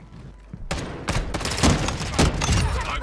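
A sudden burst of gunfire erupts in Call of Duty Warzone 2 DMZ after a quiet start, with repeated sharp cracks and thumps following in uneven volleys, loud and close.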